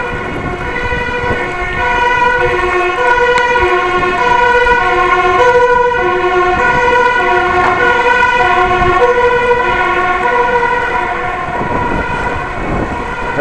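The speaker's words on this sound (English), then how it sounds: "That's a loud siren." A Dutch fire engine's siren wails loudly and continuously in a residential street, its rising and falling tones sustained throughout with no talk over it.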